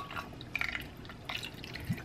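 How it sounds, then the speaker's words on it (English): Water is poured into a pot of tomato sauce while puffy taco filling is made. It gives a faint, short trickle with a few light drips, quiet and close. "All right, let me get some water in here."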